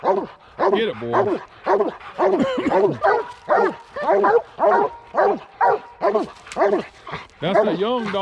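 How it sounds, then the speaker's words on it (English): Coon hunting hounds bark and bay in a steady series of loud, close, drawn-out bawls, roughly one per second, with a young dog among them. "That's a young dog right here, ain't it?"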